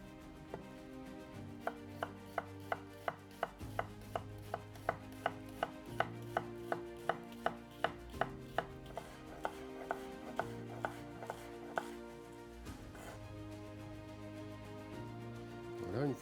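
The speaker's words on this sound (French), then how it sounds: "une fois que l'oignon est ciselé" Knife finely chopping an onion on a board, a run of sharp, evenly spaced taps close by, some coming in quick bursts, over low steady background music.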